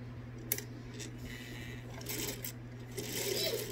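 A sewing machine runs in short bursts while back stitching the seam of a lavender off-the-shoulder dress, with steady low motor hum and intermittent higher whirring near and moderately loud, alone without talk.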